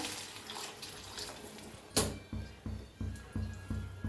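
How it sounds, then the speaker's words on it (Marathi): Hot water splashes into a pot, followed by a run of regular pouring glugs, fairly quiet and close. "आता या गरम पाणी करून घेतलेलं आहे अर्ध भगुलं ओतूया"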